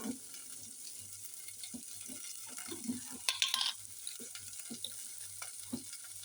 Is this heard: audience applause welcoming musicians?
no